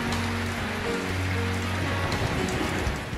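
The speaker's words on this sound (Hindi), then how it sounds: "मौसलाधार बारिश शुरू हो गई" Heavy, steady downpour beating on surfaces, a dense continuous hiss of rain close by with a low hum underneath and no voices.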